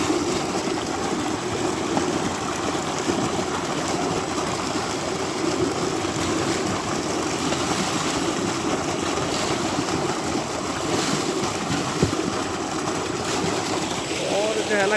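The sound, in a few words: motor-driven water pump filling drinking water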